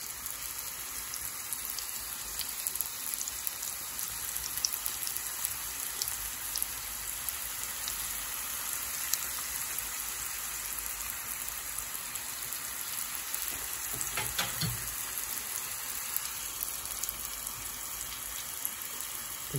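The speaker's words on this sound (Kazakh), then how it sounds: "Қызған майымызға осылай саламыз." Dough made from flour and hot water fries in hot oil with a constant, even crackling sizzle close by, holding steady throughout.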